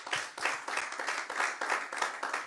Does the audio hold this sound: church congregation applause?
yes